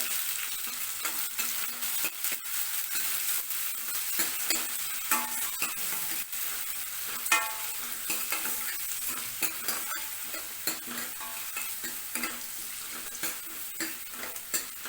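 Onions and garlic for curry leaf kulambu sizzle and crackle steadily in hot oil, with occasional scrapes and stirring of a spoon against the pan, no voices.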